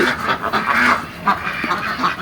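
A meat-breed farm duck quacks several times in short, nasal bursts, fairly close, with brief gaps between the calls and no talking.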